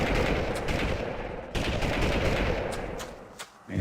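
Rapid, continuous gunfire and explosive blasts from the Army Men Air Attack game, dense and loud throughout with only a brief lull near the end.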